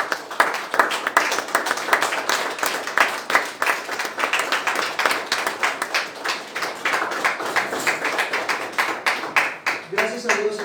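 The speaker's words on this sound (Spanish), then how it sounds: "Denle un fuerte aplauso al Señor." A church congregation claps together during a Thursday evening service, a dense and steady rhythmic patter that lasts throughout, with voices rising faintly beneath it near the end.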